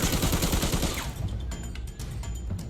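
Rapid burst of automatic gunfire in the shooter game Arena Breakout, dense and loud for about a second, followed by scattered single shots and clicks over a lingering rumble, no talking.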